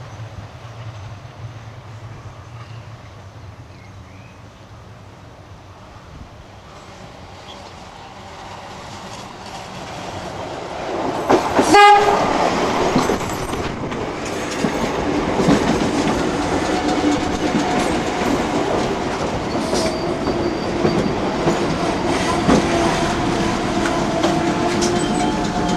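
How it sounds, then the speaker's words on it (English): A train on the Johnsonville railway line pulls into Rauroa station, the line's highest point, with a rising rumble of wheels and carriage noise, a sharp squeal or clank midway, then steady close rolling and clatter. "our train pulls into Rauroa,"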